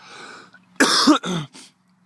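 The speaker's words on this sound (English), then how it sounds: "And I got kind of a cough." A person coughs several times in quick succession, harsh and close, after a short stretch of faint breathy noise.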